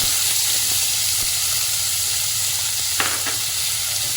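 Chopped onions frying in a hot pan for a mixed vegetable paneer paratha, a loud continuous sizzle and hiss with a couple of brief stirring scrapes partway through, no voices.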